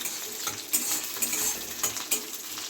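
Curry leaves frying in hot oil for masala dosa filling, a steady close crackle and sizzle with intermittent sharp pops and stirring scrapes of a utensil against the pan, no voices.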